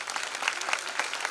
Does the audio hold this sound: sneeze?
no